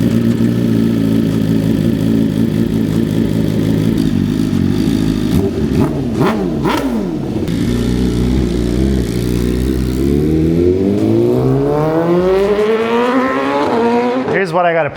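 Ducati Panigale V2 motorcycle engine running loud and close, with rising and falling revs as the throttle is blipped, then a long climbing rev near the end that cuts off sharply.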